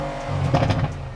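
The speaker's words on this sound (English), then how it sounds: "And you can hear that back popping on the exhaust." A wide-body Mercedes-AMG C 63 S engine rumbling with a short burst of crackling pops from the valved exhaust, close and loud.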